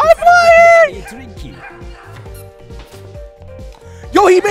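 Dogs in the Nippon Marathon video game bark in quick repeated yaps and whimpers during a sudden-death round, loud and close, with a high squealing cry at the start and end, over game music and effects.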